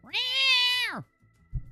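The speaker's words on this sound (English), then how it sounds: "It's a cat." A house cat gives one long, loud, close meow lasting about a second, followed by a few soft rustling bumps.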